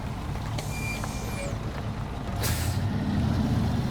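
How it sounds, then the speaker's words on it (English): A truck in SnowRunner backing up a trailer: steady low engine rumble with a hiss of air brakes and a rise in revs, with a person talking over it. "we will just back this trailer up a little bit"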